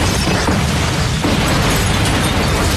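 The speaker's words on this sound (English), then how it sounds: "another explosion takes place, thus killing Luton" A movie explosion effect from a Final Destination film: a dense, loud, sustained roar of blast noise filling the whole clip, with a slight shift partway through.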